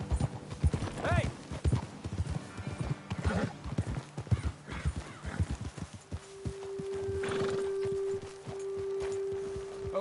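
Horse hooves clip-clop along a path in the game Red Dead Redemption 2, a steady walking rhythm close by, with a horse whinnying and people talking over it.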